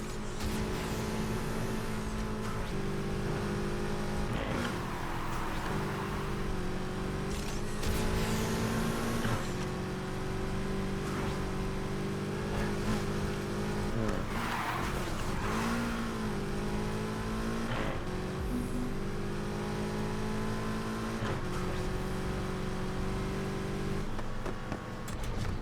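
Race cars in Need for Speed Heat during a long race, with a loud engine droning steadily and close throughout. Its pitch swells and dips with repeated gear shifts and revs, and no voices are heard.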